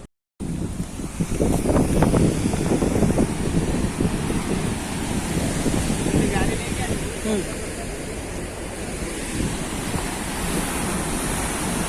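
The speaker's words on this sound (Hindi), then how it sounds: "कितना स्पीड में आ रहा है पानी" Water rushes fast through Hadgarh dam in Odisha, a loud, broad, continuous roar and wash close by, steady throughout, with someone talking over it.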